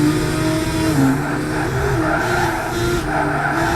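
Race cars in a GT300 league racing video game brake hard into the Vidal chicane, engines droning loudly while tires skid and squeal steadily throughout.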